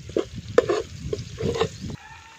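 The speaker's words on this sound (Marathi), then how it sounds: "ह्या अर्ध्या केलेल्या मिरच्या कसा टाकून घ्यायच्या आपल्याला. चांगल्या भाजून घ्यायच्या." Halved chillies roasting in a hot pan give off a steady close sizzle, broken by scraping stirs and a few sharper clacks of spoon against metal, then settling into a quieter hiss near the end.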